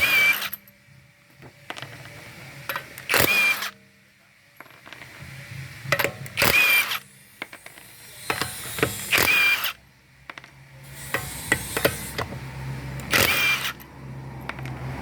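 An impact wrench on the 19mm lug nuts of a 2014 Honda Vezel RU3 Hybrid rattles in about five loud, close bursts of roughly a second each, separated by quieter workshop handling noise.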